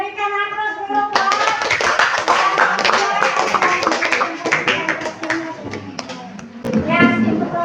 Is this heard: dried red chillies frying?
no